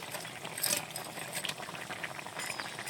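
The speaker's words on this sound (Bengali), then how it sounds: "বেগুনের তরকারিটা বেশ সুন্দরভাবে ফুটিয়ে নিয়েছি" A pot of eggplant curry simmering on the stove, a steady close bubbling and hissing with faint clicks, continuous and alone without any voices.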